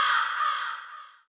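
A single crow caws once, a harsh drawn-out call that fades out over about a second, close and clear against silence.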